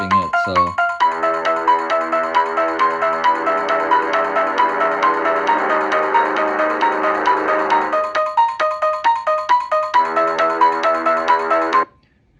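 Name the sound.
Para Rem Motion Tunes toy playing a song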